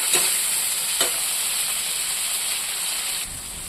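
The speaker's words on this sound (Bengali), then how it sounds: "এটা এরকম করে ভাজা ভাজা করে নেবে।" Dried fish sizzling steadily in a hot pan, a loud continuous hiss of frying with a couple of brief clatters near the start, and no talking.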